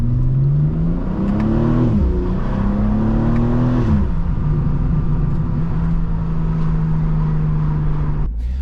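A BMW M2 CS pulls away and accelerates, its engine note rising through a couple of gear changes before settling into a steady cruise, loud and close from inside the car with no talking.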